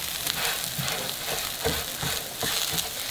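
Uncooked rice is stirred and frying in a pot for one-pot garlic shrimp and rice, giving a close, steady sizzle with soft scraping strokes and faint crackles, with no talk over it.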